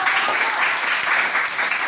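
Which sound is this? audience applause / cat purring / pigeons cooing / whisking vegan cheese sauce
audience applause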